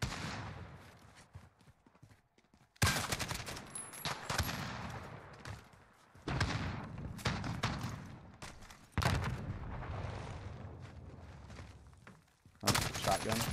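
Shotgun fire in the Modern Warfare video game: four loud, heavy blasts boom out with quiet gaps between them, each followed by a rumbling tail.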